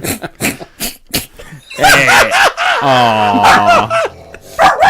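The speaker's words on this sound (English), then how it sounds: "You got the dog that's all crazy" A dog barks and whines wildly, with loud yelping, howl-like cries following sharp, rapid barks, close and dominant, mixed with laughter from people nearby.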